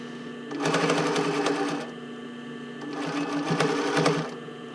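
A sewing machine stitches bra cups into the band in two bursts of rapid, rattling needle strokes, with a brief quiet gap between them, close and clear.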